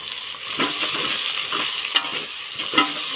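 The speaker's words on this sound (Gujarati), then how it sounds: "સારી રીતે મિક્સ કરી લેવાનું." Spices with cumin and salt stirred and frying in a pan, a steady close sizzle broken by several scraping stirs of the spoon.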